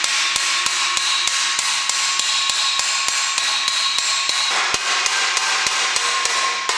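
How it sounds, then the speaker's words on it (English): Hammer and dolly beating a pedal car body panel flat during an Austin J40 pedal car restoration: a steady run of sharp, ringing metallic strikes at an even rhythm, close and loud, with no talking. "So I'll use a hammer and a dolly, bit of grinding to take tops of the welds off."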